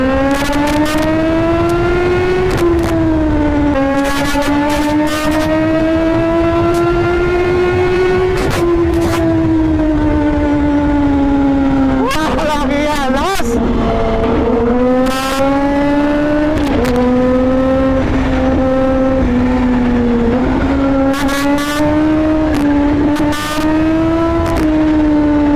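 A Kawasaki Z H2 motorcycle accelerates hard in first gear, its loud engine climbing in pitch through repeated rising pulls, each broken by short dips, close and continuous for the whole stretch.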